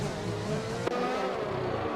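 Race cars trading contact during a video game race at Yas Marina, with a sharp brief impact thump cutting through a steady loud engine drone and tire noise.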